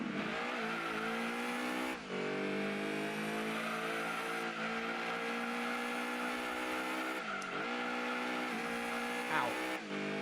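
Lancia Stratos race car engine in Gran Turismo 2, a loud sustained roar that climbs through the revs with sharp drops at each gear shift, around three shifts in a row, with no voices over it.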